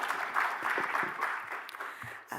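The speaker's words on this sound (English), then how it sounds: "Can we have one more round of applause to our panelists?" Audience clapping for panelists at a conference session, a brief round of moderate applause from a room of people that tapers off within a couple of seconds.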